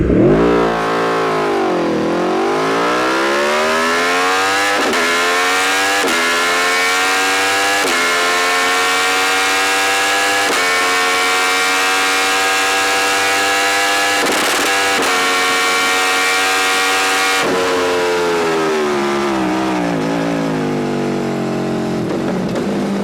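An Aprilia Tuono V4 1100 Factory motorcycle, a V4 of about 185 hp with traction control off, revs hard and accelerates through a wheelie, its loud close engine climbing in pitch with brief dips at each gear change.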